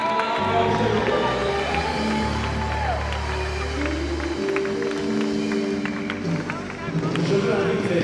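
Church congregation acclaiming the Lord with cheering and clapping, a dense crowd roar with scattered shouts and music tones, loud and sustained throughout, with voices mixed in.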